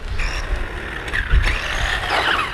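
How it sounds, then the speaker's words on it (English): A JJRC Q46 RC buggy drives and brakes on a driveway; its small electric motor whirs and rises and falls in pitch as it speeds up and slows down, fairly close and loud. "Let's show how it brakes."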